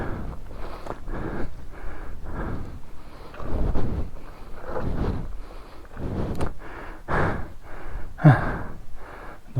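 Heavy, rhythmic panting from a rider after taking an XR200 motorcycle up a steep, dusty, sandy hill road, with repeated gasping breaths close to the microphone and light wind noise in the background.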